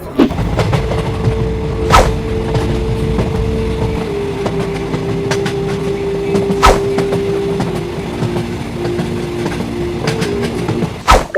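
A train rumbles through Ashuganj railway station with a steady clickety-clack of wheels, a long droning tone and a few sharp clanks, close and loud throughout.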